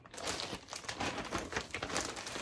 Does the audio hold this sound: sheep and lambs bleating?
no